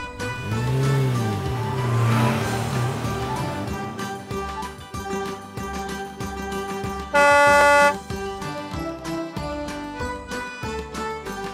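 A car revs with curving engine sweeps, then gives a sharp honk of its horn near the end, all over a busy musical backing with no talking.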